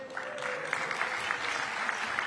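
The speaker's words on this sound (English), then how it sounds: "This is where you applaud." An audience at an affordable housing summit in Raleigh claps steadily, a dense sustained round of applause with individual hand claps popping through, heard alone without talk.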